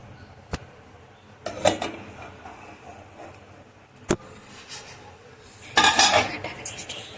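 Metal clanks and knocks close by as a cake pot is set on a stand inside a pressure cooker: a sharp tap, a couple of clattering bumps, and a busier burst of metallic rattling near the end.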